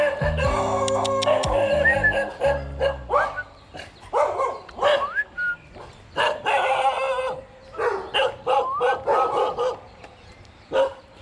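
Dogs in a Temuan village near Petaling Jaya bark repeatedly in short, loud bursts, with yips and whimpers between them, close by and irregular across the whole stretch.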